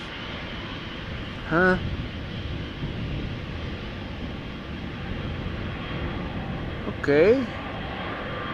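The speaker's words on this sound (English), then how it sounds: "we have an EasyJet that is crossing the runway" An easyJet airliner crossing the runway at Amsterdam Schiphol Airport gives a steady, broad engine rumble throughout, with brief voices talking over it twice.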